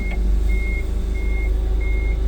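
A Toyota 8FGJF35 gas forklift's reversing buzzer sounds three steady electronic beeps in an even rhythm, alone over a loud low engine rumble.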